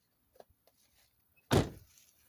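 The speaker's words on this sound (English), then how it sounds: "Unlock this back door here." The back door of an older car with hail damage is unlocked and opened: a few light clicks and a latch, then a loud, full thunk as the door swings open, close up with no talk.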